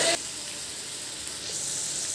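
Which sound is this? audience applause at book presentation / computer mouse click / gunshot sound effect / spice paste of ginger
spice paste of ginger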